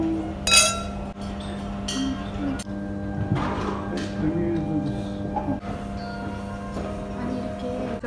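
Glasses clink together in a toast at a birthday home party, a few sharp, ringing taps spread over a quiet room hum, with other light tabletop knocks and occasional voices.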